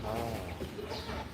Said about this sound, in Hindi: टर्किश मुर्गा नर।